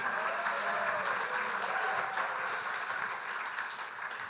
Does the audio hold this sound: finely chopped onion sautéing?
no